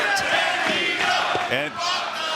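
A large wrestling arena crowd at a pay-per-view show in Philadelphia roars and chants in a loud, continuous swell, with voices rising and falling together.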